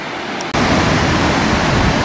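A waterfall below a giant dam on a river roars as a dense, loud, continuous broadband rush that cuts in abruptly after a brief quieter moment, with no voices over it.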